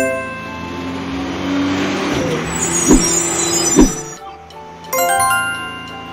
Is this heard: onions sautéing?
no